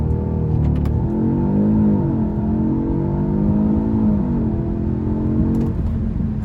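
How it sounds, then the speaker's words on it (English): An Audi S3 8Y with a 213 kW engine launches under launch control, its engine droning and rising in pitch as it accelerates hard, loud and steady throughout. "to launch you just press the accelerator,"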